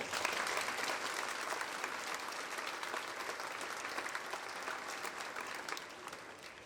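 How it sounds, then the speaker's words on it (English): A crowd applauds at a 2019 high school commencement ceremony: steady, dense clapping held at an even level throughout, heard from a slight distance with no voices over it. "Let's give them a round of applause."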